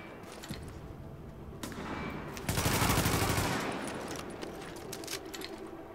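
Sniper gunfire in the video game Tom Clancy's The Division: a dense burst of loud shots swells in the middle of the clip over a busy game soundscape, then fades back into a lower rumble.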